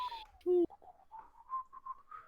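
Someone whistles a short, wavering tune in thin, breathy notes, with a brief louder tone near the start and quiet surroundings.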